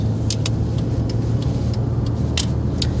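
Steady, moderately loud cabin rumble of a car being driven, heard from inside, with a low engine drone and scattered light ticks and clicks over it, no voices.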